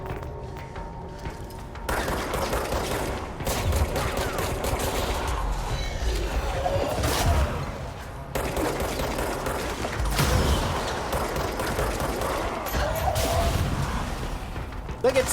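Weapon fire in the video game Control, with dense bursts of rapid shots, booms and whooshing effects in several loud volleys separated by short pauses.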